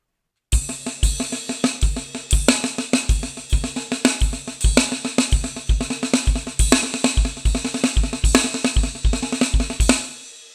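Snare drum strokes play slow accented inverted paradiddles, two groups with differing accents, steady repeating hits with louder accented strokes, close and alone without speech.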